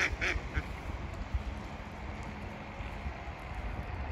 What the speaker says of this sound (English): Look at that duck. It's standing on the ice.